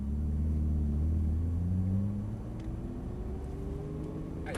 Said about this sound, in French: On accélère tout doucement, c'est très sensible.